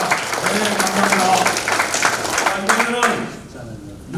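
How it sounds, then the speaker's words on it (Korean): An audience at a 2023 political assembly applauds a standing advisor and chairman: a steady wash of clapping that runs for several seconds and fades near the end, with a voice talking over it. "상임고문 회장님께 힘찬 박수 부탁드립니다"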